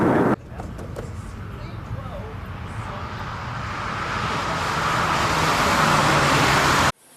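An old Triumph 2500 Mk I saloon driving hard with its engine note rising steadily through a gear, a loud continuous close drone with rushing wind, and a break near the start suggesting a gear change.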